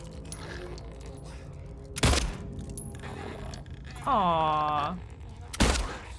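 Two sharp, separate gunshots from the survival horror game Silent Hill 2 Remake, set in rain, ring out a few seconds apart over a low ambient bed while a person talks.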